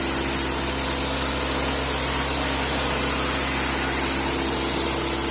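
Steady hissing spray of a paint gun laying down a light first coat of 2K primer, a broad continuous rush of air and atomized coating over a low compressor-like hum, close and unbroken throughout.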